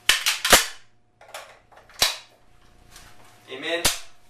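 An Israeli FN FAL rifle being handled and dry fired, with sharp metallic clacks of the magazine locking in and the action cycling, then a crisp click of the hammer falling, close and loud.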